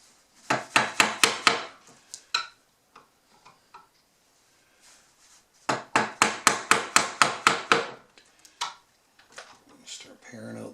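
Chisel paring a hand-cut mortise in wood for a cabinet face frame, two quick clusters of sharp rhythmic taps and knocks separated by quieter scattered clicks.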